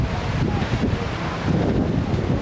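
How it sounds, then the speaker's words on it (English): Steady, blustery wind roars across Manly Beach in Sydney, buffeting the microphone with a constant low rumble that swells and gusts without pause. "It's really windy."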